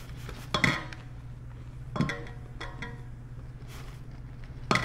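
A spatula folds sifted almond flour into whipped egg foam in a bowl, giving a few soft, spaced scrapes and light clinks against the bowl over a steady low hum.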